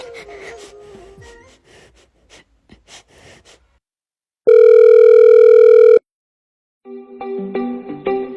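Steady single ringback tone on a phone call, loud and alone for about a second and a half, with breathing and gasps before it and a burst of other tones after.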